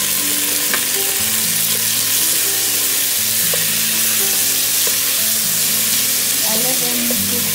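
Onion and tomatoes fry in a pan with a dense, continuous sizzle, loud and close throughout, with a few faint stirring clicks and no talk.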